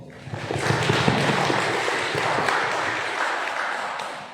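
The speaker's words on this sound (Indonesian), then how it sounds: "Silahkan tepuk tangan." A crowd claps at a graduation ceremony, a dense burst of applause that swells quickly and holds steady for a few seconds before fading.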